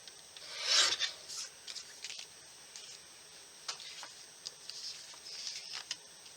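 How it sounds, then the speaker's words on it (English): Photo being trimmed down to a 4x4 size for a handmade card, with a close rasping cut at the start, then soft scattered paper rubs and light ticks, quiet, without talk. "So we're going to trim our photo down."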